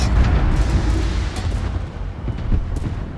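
A battleship's big-gun salvo in World of Warships, a deep rolling boom of heavy naval artillery that rumbles on for several seconds with smaller bursts layered through it.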